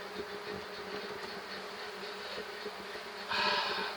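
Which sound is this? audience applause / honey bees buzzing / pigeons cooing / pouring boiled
honey bees buzzing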